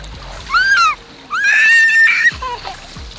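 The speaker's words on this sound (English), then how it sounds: "She been splashing" A child splashes in a swimming pool with two loud bursts of splashing, each carrying squeals and shrieks, then quieter sloshing close by.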